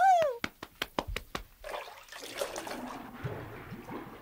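Audiobook water effect for Guppi the penguin diving under in shallow water: a rising whistle, a run of sharp splashy plops, then a murky bubbling, gurgling wash that fades.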